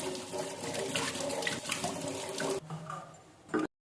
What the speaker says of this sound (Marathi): तर चला, गोसावळे आधी स्वच्छ धुवून घ्यायचे।